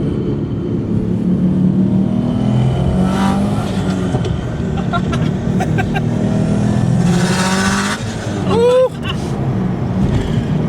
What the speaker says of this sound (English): I'm gonna downshift in a second